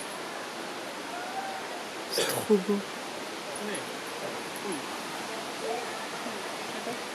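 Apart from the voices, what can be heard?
small waterfall in a village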